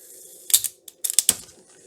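A Philips 22GR814 cassette recorder fast-forwarding its tape, a low steady whir beneath a run of sharp mechanical clicks and clatters, close and fairly loud, with no talking.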